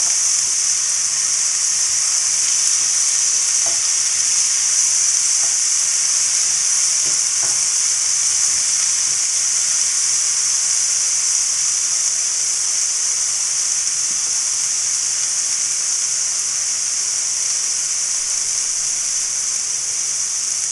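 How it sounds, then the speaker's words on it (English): Zucchini and tomatoes cooking over a high flame give a steady, loud frying sizzle with a bright hiss that holds evenly throughout, broken only by faint occasional stirring clicks. "You want to cook this at high flame till the time zucchini softens and tomato as well."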